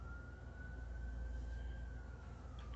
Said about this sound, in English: I hear an ambulance coming up the hill.